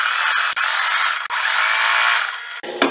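A sewing machine stitches steadily across a tote bag strap, a close, continuous whirring hum broken by a couple of brief pauses before it stops near the end.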